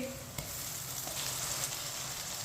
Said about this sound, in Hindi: लहसुन और प्याज को हल्का सा ब्राउन कर लिया है